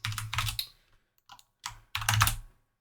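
Keys clatter on a computer keyboard in short bursts of quick typing, a few clustered taps separated by brief pauses, close and clear.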